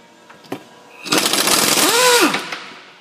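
An impact or power tool bursts loudly for about a second and a half, spinning out a 15 millimeter strut bolt with a flag nut on a Ford Fusion, preceded by a few small metallic clicks.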